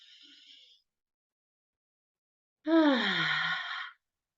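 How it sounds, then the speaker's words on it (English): A deep exhale through the mouth during a guided breathing exercise: after a faint breath, one long, fairly close, breathy sigh with a falling voiced tone lasts a little over a second, then stops. "take a deep breath in through the nose, and then we're going to exhale through the mouth"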